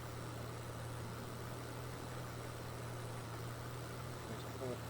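An old 1980s farm tractor in Farming Simulator 22 running at a slow crawl, giving a faint, steady low engine drone without change in pitch or rhythm.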